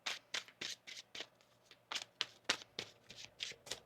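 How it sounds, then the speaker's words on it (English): Tarot cards being shuffled by hand, a quick run of about a dozen crisp riffling bursts in an uneven rhythm, close and fairly loud with no talking. "One more shuffle here."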